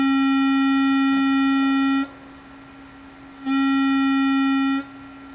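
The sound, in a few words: synthesizer oscillator tone being repaired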